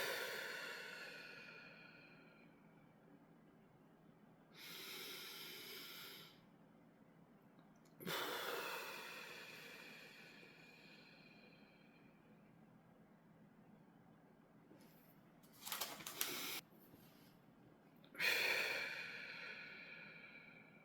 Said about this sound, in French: maintenant on va faire 3 bonnes respirations